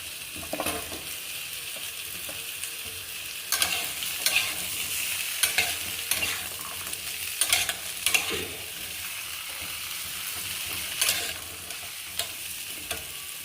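Papaya, pointed gourd and other vegetables fry in a pan with a steady, fairly soft sizzle. A utensil scrapes and stirs through them at intervals, making clinks and scrapes, and no one speaks.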